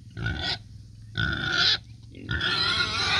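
A pig grunts and squeals in three loud, close bursts separated by brief pauses.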